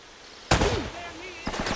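A loud, sharp gunshot in the video game Uncharted cracks out midway and rings into a decaying tail, followed by a second burst of impacts near the end.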